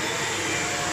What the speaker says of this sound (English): So turn on the vacuum cleaner, the head won't turn